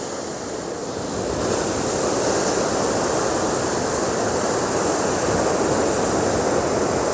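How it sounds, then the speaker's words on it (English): Ocean waves roll and break on the shore at Monterey, California, a steady broad wash of surf that swells slightly after the first second, with some wind on the microphone and no talking. "Look at the way the sunlight is hitting those waves right there."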